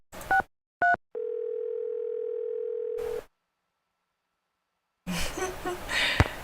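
Telephone in the Nancy Drew game Secret of the Scarlet Hand: two short beeps, then a steady dial tone for about two seconds, silence, and a burst of noisy game sound at the end.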